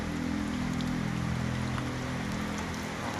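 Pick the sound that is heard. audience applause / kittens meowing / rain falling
rain falling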